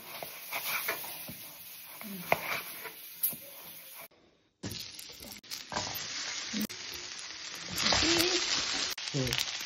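Vegetables and meat sauté in a hot pan for a Visayan ginisa, giving a steady sizzle broken by scraping stirs, with one short pause in the middle and a louder frying burst near the end.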